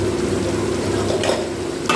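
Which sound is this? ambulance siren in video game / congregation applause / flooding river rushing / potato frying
potato frying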